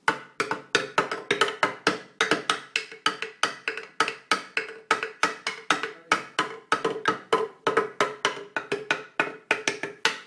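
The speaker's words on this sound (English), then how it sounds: "make drums, so we make drums out of bamboo." A bamboo drum played in a quick, steady rhythm of hollow, woody knocks, close and clear with no voices.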